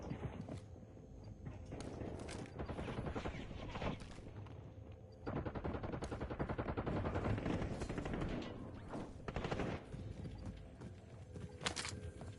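Dense, continuous gunfire in a Call of Duty-style video game, rapid overlapping shots and clattering sustained across the whole stretch with a few brief lulls, fairly distant and muffled in the mix.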